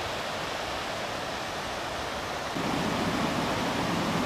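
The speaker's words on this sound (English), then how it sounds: "This is the main waterfall at Watersmeet." The main waterfall at Watersmeet on the East Lyn river in Exmoor, a steady broadband rush of falling water that fills the scene at close range and swells slightly louder partway through, with no voices.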